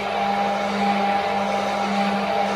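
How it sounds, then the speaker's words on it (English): An electric mixer whirs steadily as it beats qatayef batter, a constant, even motor hum with a sustained tone and no pauses, heard alone at moderate loudness. "we have to mix now using the electric mixer"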